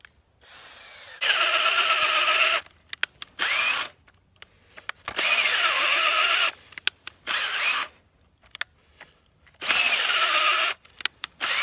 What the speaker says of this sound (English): Really only want to drill into the tree about that far